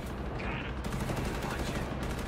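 Rapid gunfire from the video game Cyberpunk 2077 during a firefight, dense and sustained bursts that run continuously from start to finish with hardly a break.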